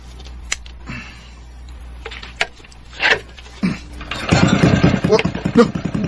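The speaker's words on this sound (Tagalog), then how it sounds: "Nisiga makina ini pambot." A faulty boat engine that keeps dying is restarted nearby: scattered clicks and short bursts give way to a loud, rough running rumble in the last couple of seconds, with voices around it.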